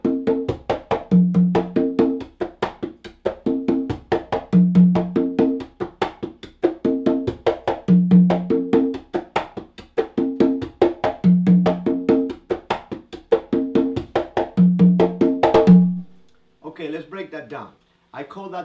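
Conga drums repeat an aggressive tumbao, a driving, syncopated pattern of slaps and deep open tones, looping steadily in loud phrases before stopping abruptly near the end.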